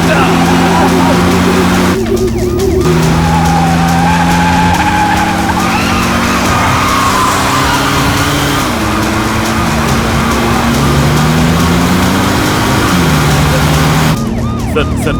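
A car speeds through a movie chase scene, its engine roaring loud and near as tires squeal in long, wavering skids, with shouted voices over the top.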